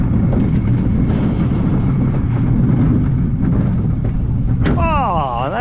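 A roller coaster train at Paultons Park rumbles loudly along the track as it slows into the brakes, ending in a rising, sweeping squeal near the close.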